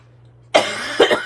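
A person coughs nearby, one sharp loud cough after a quiet moment, then two more quick coughs close together, no speech.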